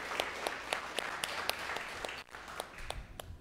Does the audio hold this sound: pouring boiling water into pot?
no